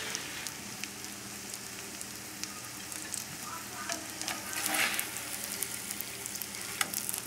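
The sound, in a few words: chicken frying in a pan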